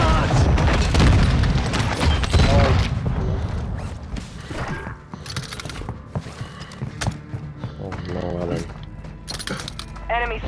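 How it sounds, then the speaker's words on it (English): A grenade goes off in the shooter game Call of Duty: Modern Warfare II, a heavy close boom followed by clattering game sounds and bursts of activity, with voices heard among the noise. "Throwing grenade charge!"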